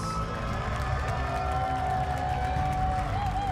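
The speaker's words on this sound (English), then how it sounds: "And now a big round of applause for the Unite International Champions" A large crowd cheers and applauds the winning team at the Pokémon Unite North America International Championships, a steady dense roar of clapping and cheering mixed with background noise throughout.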